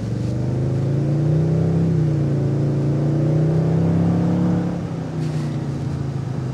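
A 2023 Toyota Tundra 1794 Edition pickup revs up and pulls hard, its deep, throaty exhaust drone rising and holding steady, loud and close, then easing off near the end.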